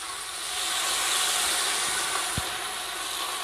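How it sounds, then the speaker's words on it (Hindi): A tempering of browned onion, garlic and ginger poured from a pan into cooked mustard greens (sarson ka saag) gives a loud, steady sizzling hiss that carries on throughout with no voices. "चूल्हा बंद करते हैं और ये तड़का इसमें डाल देती हूँ"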